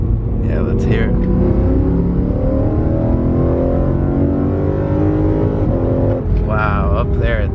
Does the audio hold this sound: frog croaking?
no